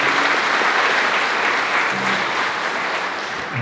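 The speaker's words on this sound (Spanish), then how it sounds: "Un aplauso para la Virgen María." A concert audience at a Marian-themed event applauds loudly, a thick continuous wash of clapping that holds steady throughout, with faint tones from an instrument sounding briefly underneath.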